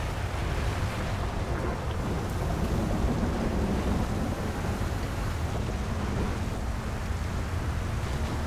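Steady heavy rain and low thunder rumble in a nighttime storm in the video game GTA 5, a dense continuous wash of rainfall with deep rolling rumble throughout, no voices.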